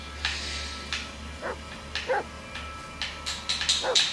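A dog in the Blair Witch video game gives a series of short barks and yips, spaced irregularly with a few whimpering notes, mid-distance over a low steady hum, with no voices.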